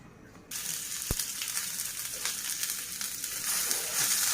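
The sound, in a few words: chilies frying in mustard oil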